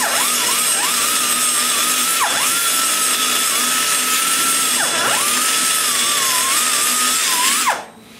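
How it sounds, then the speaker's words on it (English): Grinder trimming a bronze valve guide down level with an aluminum big-block cylinder head, a loud continuous high whine that dips briefly several times as the tool bites, then cuts off at the end. "I take my grinder and I go in there and I trim the bronze guide and pull it down."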